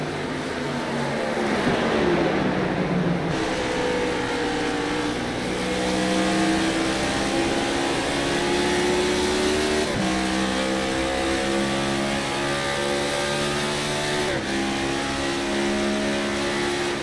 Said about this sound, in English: Listening to the throttle control here, you can see it's bumpy.